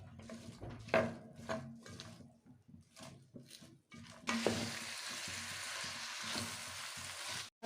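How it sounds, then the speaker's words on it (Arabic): Onions frying in olive oil over high gas heat while being stirred for Palestinian musakhan, starting with intermittent scrapes and stirs, then a loud steady sizzle taking over for the last few seconds, close up with no talking. "ولازم يكون الغاز عندنا في بداية وضع البصل على الزيت عالي علشان ما ينزش مي من البصل"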